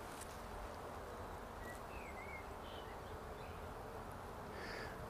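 Steady, dense buzzing of honeybees flying at a hive entrance in spring as they bring in pollen, a continuous close hum with occasional individual bees passing nearer.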